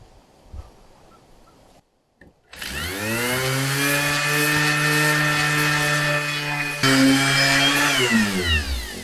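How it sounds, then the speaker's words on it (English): Power sander taking paint off a Fiero bumper: after a few quiet knocks it spins up into a loud, steady motor whine that holds for several seconds, briefly dips, then surges again. "you need to sand all the way until that is completely gone"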